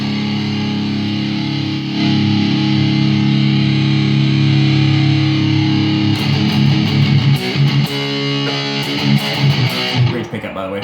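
A heavily distorted electric guitar through a NU-X Horseman overdrive and Ultra Metal distortion pedal plays sustained, buzzing chords, loud and saturated, with choppier strummed notes toward the end.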